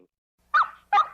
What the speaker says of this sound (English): Number 13 is Dogs Barking